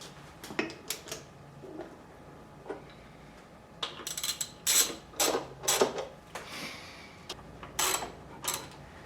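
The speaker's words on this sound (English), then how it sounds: "I can go ahead and start torquing things a little bit more aggressively" Ratchet clicking in short bursts while torquing the rear engine cover bolts on a Honda CX500, close and fairly loud, with quiet pauses between the runs of clicks.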